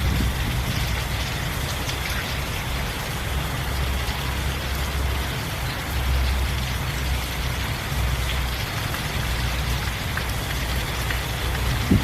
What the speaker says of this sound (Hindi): बहुत ही ज़ोरदार बारिश हो रही है।